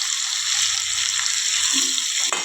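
Onion and potato curry with garlic-chili paste and garam masala stirred in a pan, giving a steady close sizzle with soft scraping and a brief knock near the end, no talking.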